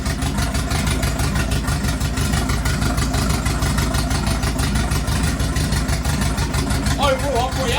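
A Ford Fiesta MK1 engine idles steadily and loudly up close, its even low rumble pulsing without a break, with a brief voice near the end.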